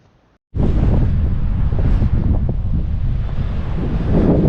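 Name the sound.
strong wind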